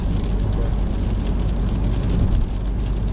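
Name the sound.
rain while driving a car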